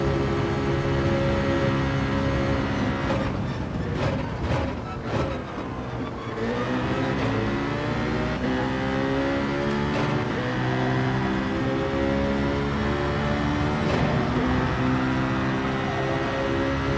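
Race cars roar through a Gran Turismo 7 daily race at Sardegna, engines droning steadily with rising and falling pitch as gears shift, a dense continuous whine with a brief dip mid-way.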